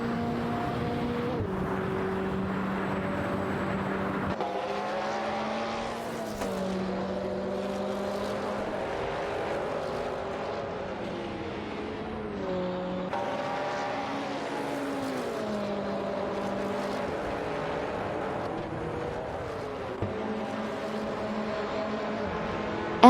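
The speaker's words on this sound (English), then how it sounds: "Obelix, Amax and Paradox are making moves, overtaking 6 cars to secure 16th place" Race cars in an AI racing video game, a steady, continuous engine drone with shifting revving pitches as several cars run together, loud and sustained without any talk.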